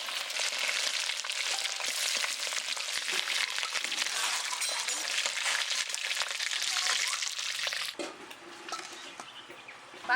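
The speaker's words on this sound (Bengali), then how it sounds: "বাকি মাছগুলো এইভাবে ভেজে নেবো।" Several pieces of hilsa fish frying in oil in a pan, producing a dense, continuous close sizzle with crackles that drops abruptly to a quieter hiss near the end, with no one talking.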